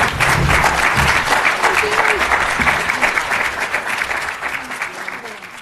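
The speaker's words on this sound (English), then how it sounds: "round of applause" A round of applause at a cystic fibrosis foundation conference session, as an audience claps steadily with scattered voices and whoops, then slowly fades toward the end.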